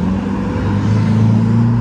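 Cars pass close by on a road, a loud continuous engine and tyre roar with a low droning hum that shifts slightly in pitch as vehicles go past.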